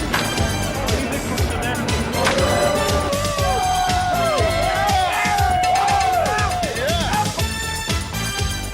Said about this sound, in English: When it was time to play ball, the crowd was loud.